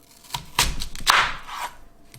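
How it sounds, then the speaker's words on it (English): A kitchen knife cuts a peeled onion in half on a cutting board in a home kitchen. The result is a few close crisp chops and a longer scraping slice, loud and clear with no talk. "Okay, let's start chopping. Let's cut it in half."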